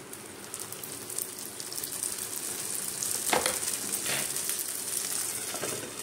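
Ghee sizzles in a hot pan during vrat cooking, a quiet crackling hiss with scattered pops that swell briefly midway.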